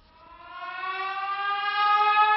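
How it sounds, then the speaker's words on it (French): A civil defense alarm siren in Paris wails steadily with a rising, layered harmonic tone, swelling from quiet to loud and holding strong, with no voices over it. "Cette sirène est le signal de la guerre ou d'une catastrophe majeure."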